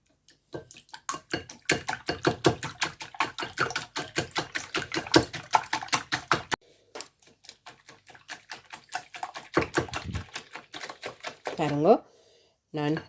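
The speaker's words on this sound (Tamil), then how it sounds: "நீங்கள் விஸ்காலையே அடித்து கொள்ளுங்கோ" Rapid, rhythmic hand-whisk strokes beating wattalappam mixture in a bowl, a dense run of close ticking taps that stops partway, then a few more strokes under a voice.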